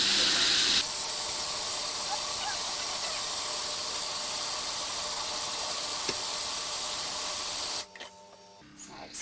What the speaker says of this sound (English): we're just now going to grind these up into a paste